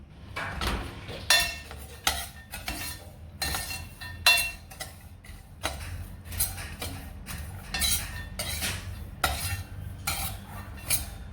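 A utensil repeatedly scrapes and clinks against a frying pan as peanuts are stirred and roasted in garri, giving irregular bursts of gritty rattling and metallic taps, fairly close and with no talk.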